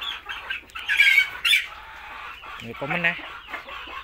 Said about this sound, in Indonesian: Ayam mau ngendok.